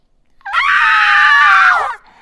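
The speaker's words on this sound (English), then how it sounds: "With a screech of rage" A witch lets out a screech of rage: one loud, piercing shriek that rises sharply, holds for about a second and a half, then cuts off, heard alone against silence.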